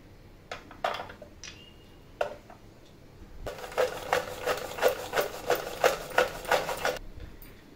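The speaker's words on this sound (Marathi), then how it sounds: "ह्या मशीनमध्ये मी बदाम बारीक करून घेतलेत." A small kitchen grinder chops almonds in a run of short, rhythmic pulsing bursts, close and moderately loud, after a few separate clicks and knocks at the start.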